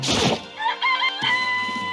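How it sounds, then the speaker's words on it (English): A cartoonish chicken clucking and crowing in the video game Danganronpa, a short bright burst of squawks followed by a sustained tonal game sound, with no talk. "It's a chicken."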